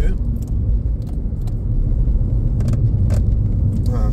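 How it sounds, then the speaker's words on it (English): A big bus approaches along a road, a steady loud rumble of engine and tyres building throughout, with scattered clicks and rattles close by. "there's a big bus coming towards me"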